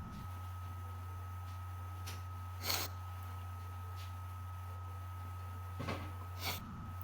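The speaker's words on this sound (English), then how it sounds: "I got to blow my nose." A person blows their nose in two brief bursts against a steady mechanical hum, with a few faint breathy snorts in between.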